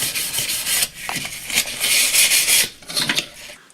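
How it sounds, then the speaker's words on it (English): Close, rhythmic rasping strokes of sandpaper rubbing against a wooden box, several back-and-forth passes with brief pauses. "I've done all the sanding down and roughing up."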